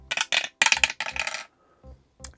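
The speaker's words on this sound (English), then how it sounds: "So now let us roll the dice and see what today's soup will be." Dice are rolled on a hard surface before choosing a soup, giving a series of quick bright clattering rattles in four close bursts followed by a few softer settling knocks, heard alone.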